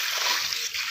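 Floodwater after heavy rain runs through a residential street, a close, continuous rushing splash and slosh of moving water.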